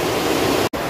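Steady broadband rush of the Rangit river flowing near a hillside resort close to Darjeeling, loud and continuous like surf, with one brief dropout near the end.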